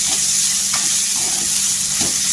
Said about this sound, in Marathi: इथे कांदा आणि टोमॅटो, हिरवी मिरची ह्या सगळ्यांचा एकजीव करायचा. पूर्ण तेल सुटेपर्यंत परतत राहायचं.